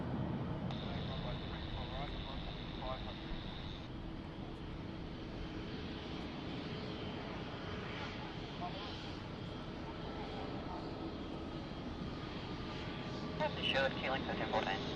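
A fixed-wing airliner rolls for takeoff on runway 34 right at Sydney Airport, its engines a broad continuous roar that holds steady for the whole stretch, with a faint radio voice audible early on.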